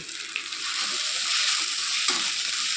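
Turmeric, salt and ground spices get stirred into ginger and chili frying in oil for a Bengali chana dal. A steady close sizzle carries soft scraping from the stirring.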